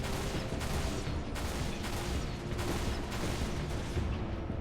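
Dense covering gunfire in the video game Halo Reach: a continuous barrage of overlapping shots and blasts rattling on for several seconds at a steady, heavy level, with no voices.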